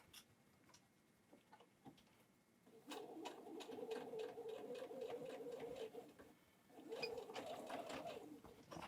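A sewing machine stitches through a denim belt strap in two steady runs of rapid mechanical whirring and ticking, separated by brief pauses with light handling clicks.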